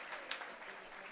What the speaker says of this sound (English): to receive a round of applause from the home fans